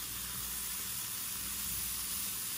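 Tofu sizzles in oil on a skillet, a steady close hiss that stays level and unbroken throughout with no voices.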